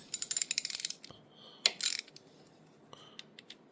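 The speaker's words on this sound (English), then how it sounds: "now I'll undo all these cover bolts" A ratchet wrench undoes the cam chest cover bolts on a Harley-Davidson Twin Cam engine, giving a close, rapid run of sharp clicking, a pause, then a second quick burst and a few scattered clicks and metallic taps.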